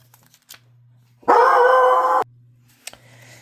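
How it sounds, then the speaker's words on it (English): A single loud, drawn-out dog bark rings out close by, almost howl-like, surrounded by near silence. "My dog's barking."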